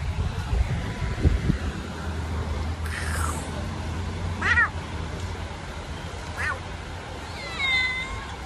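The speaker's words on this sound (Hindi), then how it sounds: "पता है तेरे को, म्याऊं म्याऊं कर रही है।" A small cat, mother to kittens, gives several faint, short meows spaced a second or two apart on an evening street in Rishikesh, India, under steady background noise.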